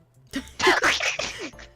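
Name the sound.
sneeze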